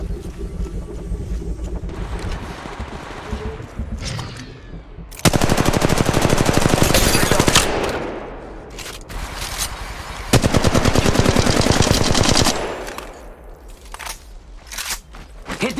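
Bursts of automatic gunfire from Apex Legends Mobile, a battle royale shooter at Kings Canyon: two long, loud sustained volleys with short shots between, over a constant windy background.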